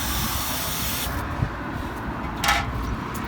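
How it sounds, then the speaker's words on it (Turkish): Brake cleaner sprayed on car brake caliper pistons, a continuous hissing spray running steadily, with a brief louder burst near the end and a faint knock partway through. "Kaliper pistonlarımızı da şöyle balata spreyi ile"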